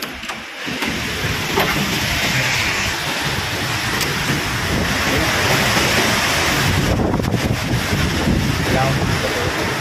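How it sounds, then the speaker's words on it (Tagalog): Heavy typhoon rain and wind batter a flooded house in Catanduanes, a dense, continuous roar of downpour and gusting wind buffeting close to the microphone, loud and unbroken throughout. "Sobrang lakas ng ulan."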